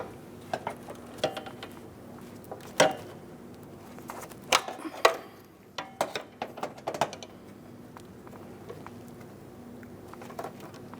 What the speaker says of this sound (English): Just a nice short ratchet for this.